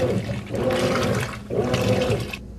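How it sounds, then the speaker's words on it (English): A Kenmore high-efficiency top-load washer drains water in two loud, rushing surges of gurgling flow, close and continuous, then cuts off abruptly. "Let's listen to drain sounds."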